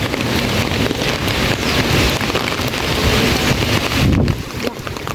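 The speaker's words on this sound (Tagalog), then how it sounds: "lakas ang hangin" Strong wind buffets the microphone outdoors by a bridge, a loud, continuous roaring rumble with gusty surges and no speech.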